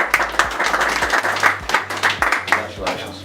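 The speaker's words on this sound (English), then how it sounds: "It probably feels appropriate to give him a round of applause." Audience applause at a live talk, a round of clapping for a congratulated guest; steady close clapping with scattered louder claps throughout.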